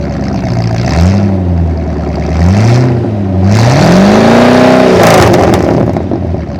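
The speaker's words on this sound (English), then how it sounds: "So I'll give you a rear exhaust clip" A 1963 Ford Galaxie 500 engine revs through its rear exhaust, the note rising and falling in several deep, throaty sweeps, loud and close.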